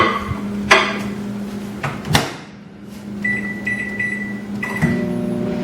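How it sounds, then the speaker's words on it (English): A microwave oven hums steadily, with sharp clunks of a door or cupboard and a faint tone joining partway through. "generally I'll go about 4 or 5 minutes in the microwave"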